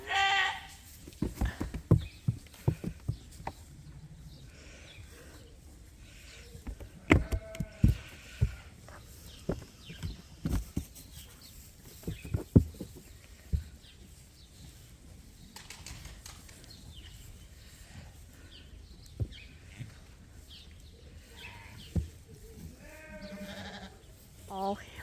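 Sheep on a farm, a ewe calling her lamb with several wavering bleats, loudest at the start and returning later, mixed with scattered knocks and rustling while a person talks nearby.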